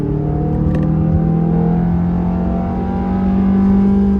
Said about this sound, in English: give a little bit of VTEC here.